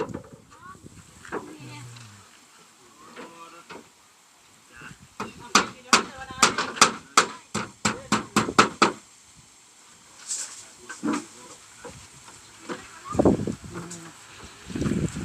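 A series of sharp hammer blows drives nails at a house, about a dozen quick, fairly close strikes in a burst, with people talking before and after.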